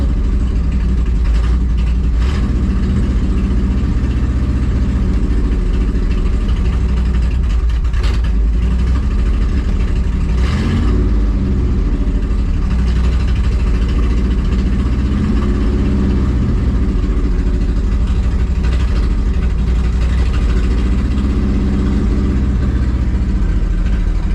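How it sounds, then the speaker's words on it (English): A 1968 Chevy Suburban engine with no working idle circuit runs roughly, trying to idle as it warms up, a loud steady low rumble with slight unevenness throughout and no talking. "All I can do is just try to get it to warm up a little bit to where maybe it'll idle"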